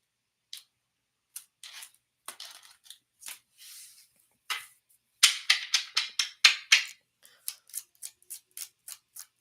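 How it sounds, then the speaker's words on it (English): Quick papery snaps and riffles of tarot cards being shuffled, in short bursts that grow louder and denser, close by in a quiet room. "One more shuffle."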